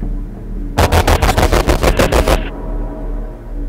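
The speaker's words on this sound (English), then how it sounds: "Oh, I have to shoot something." A close, loud burst of rapid video game gunfire, about a dozen evenly spaced shots over a second and a half, then only a low steady hum.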